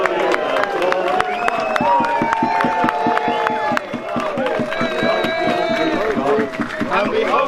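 A crowd claps and cheers for a band of mummers performing a traditional play in Tarring in January. Loud rhythmic clapping mixes with shouts and voices close by, and people talk over it.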